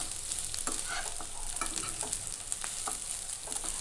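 Leftover rice for veggie fried rice is tossed in a hot pan, giving a steady sizzle with scattered scraping and stirring clicks throughout, close and clear.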